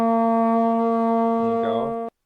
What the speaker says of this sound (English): we're going to contrast it with the trombone